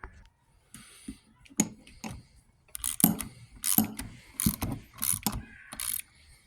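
A ratchet with an 8mm socket installs a starter bracket on a 2005 Acura TL Type S 3.5L, giving several close, quick bursts of clicking pawl strokes separated by brief pauses and small metallic knocks.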